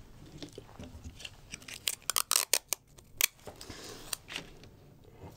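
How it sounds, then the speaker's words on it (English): Tape is torn from a roll to fix a picture down on a drawing workspace, giving a quick cluster of sharp, crackly rips close by with short pauses between, and no talking. "the first thing that I'm going to do is take my picture on my workspace and I'm going to tape it down"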